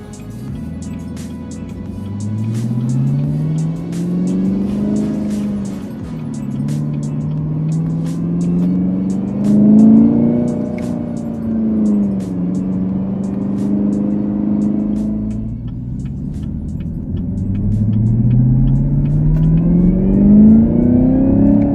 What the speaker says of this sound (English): change it over into the paddle shift mode so we can get an idea of how quickly this 10-speed automatic shifts when it comes to using the paddles